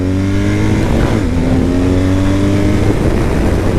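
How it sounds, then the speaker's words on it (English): An adventure sport motorcycle engine revs under throttle, a loud, close, continuous buzzing drone whose pitch climbs and shifts as the rider opens it up, with no talking. "Let's get some throttle here."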